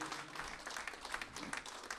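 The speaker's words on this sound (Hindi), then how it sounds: "पुरजोर तालियों के साथ उनका स्टेज पर इस्तकबाल करें।" A mushaira audience applauds to welcome a speaker to the stage, with soft, dense clapping throughout, faint and distant.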